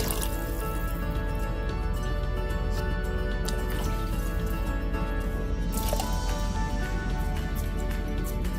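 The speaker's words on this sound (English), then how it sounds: "to it I'm going to add about 4 cups of water" Water pouring and splashing into a pot of soaking rice for Ambur boneless mutton biryani, a steady continuous wet rush with drips, close and fairly loud throughout, with no talking.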